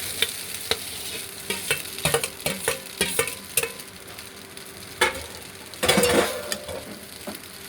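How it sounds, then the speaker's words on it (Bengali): Fried noodles with tomato and soy sauce are tossed and stirred in a pan. Sharp spatula scrapes and knocks come close and frequent over a steady sizzle, and a louder hissing burst breaks in near the end. "এবার আমি এগুলো মিশিয়ে দেবো।"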